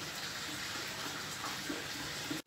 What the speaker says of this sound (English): Take a pot, fill it with water to a half level of the pot